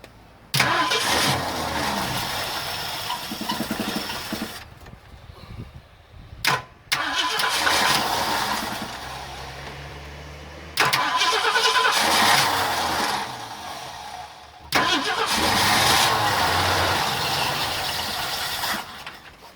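A 1967 Ford Galaxie with a worn accelerator pump is cranked and started several times, catching and roaring roughly in loud bursts that cut out between attempts, close and without talk.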